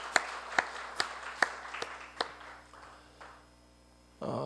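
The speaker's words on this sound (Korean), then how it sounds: "예, 뜨거운 박수로 우리 같이 함께 환영하시겠습니다." A church congregation claps to welcome first-time visitors at a worship service, a few sharp distinct claps spaced about half a second apart that thin out and fade, then a low murmur rises at the end.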